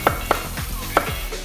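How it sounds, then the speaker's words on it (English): Apples caramelizing in a pan are stirred with a spoon, giving three or four quick scraping clacks over a low, even sizzle. "As soon as we get our apples caramelized to the point that we like them"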